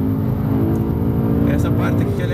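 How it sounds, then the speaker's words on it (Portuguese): A motorcycle overtakes a car on the outside at the Nürburgring, its engine a loud, steady, close drone throughout, with voices talking over it. "vamos passar o carro de moto por fora."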